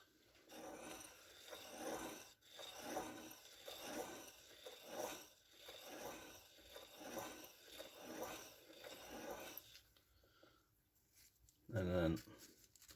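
A file rasps on a Honda K20 piston ring to set its end gap, steady back-and-forth strokes close up, roughly ten of them, ending in quiet with a brief clatter.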